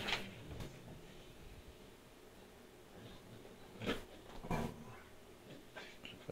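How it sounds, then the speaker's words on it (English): Two dogs play fight nearby with faint growls, grumbles and short yips, heard in brief scattered bursts over a quiet room. "Dogs play fighting with each other right now."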